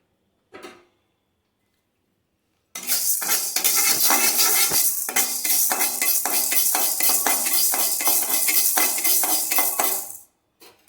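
Urad dal roasts in a dry pan, its grains rattling and scraping under a spatula in a dense, continuous close clatter for several seconds after a brief knock and a silent pause.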